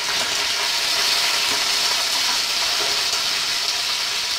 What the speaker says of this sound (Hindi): अब हम इसमें कड़ी पत्ता डालेंगे।